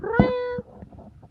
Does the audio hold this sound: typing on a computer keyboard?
no